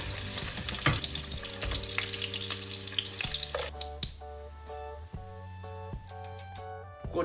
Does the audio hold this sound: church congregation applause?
no